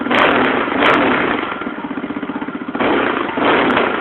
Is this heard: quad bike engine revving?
yes